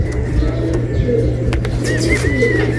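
Racing pigeons coo outside the loft, soft throaty low calls repeating close by over a steady background hum, with a few faint chirps and brief knocks.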